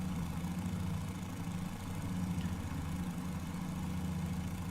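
Fokker F.VII engines taxiing on the ground in a flight simulator game, a steady low, throbbing drone at moderate level with no clear change in pitch throughout.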